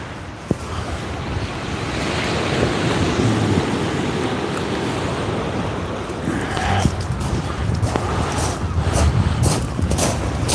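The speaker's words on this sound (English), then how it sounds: "Wind's still stronger than they claimed." Strong wind and waves at sea during kayak fishing: a continuous roar of surf and heavy wind buffeting the microphone, with occasional splashes and knocks near the end, loud and close.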